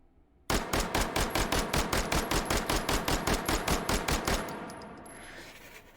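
An Uzi Micro fitted with a compensator fires a rapid, steady string of about twenty semi-auto shots in the VR shooter H3VR, each crack loud and close, followed by a brief fading echo with faint mechanical clicks.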